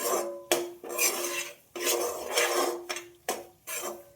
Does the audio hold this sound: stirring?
yes